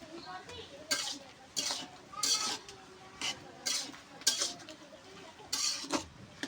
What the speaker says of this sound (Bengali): এবার নেড়ে দেবো সুন্দর করে